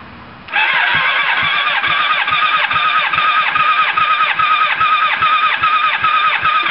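A 1987 Kawasaki ZX750R motorcycle engine cranks over on the starter during a compression test on cylinder three, with a loud, steady, rapid chugging rhythm that starts abruptly and runs on without firing.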